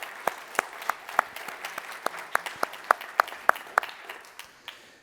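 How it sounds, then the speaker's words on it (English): An audience at a scientific symposium claps for the morning's presenters, with distinct sharp claps rising and falling steadily before fading out at the end. "So maybe we give them another round of applause for all the presenters this morning."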